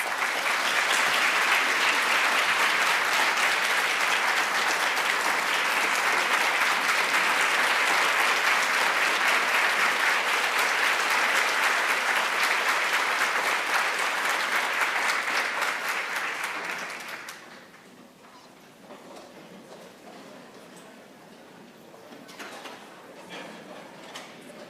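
Sustained applause from a college convocation audience, steady and full for about seventeen seconds before dropping off abruptly to scattered faint claps and room noise.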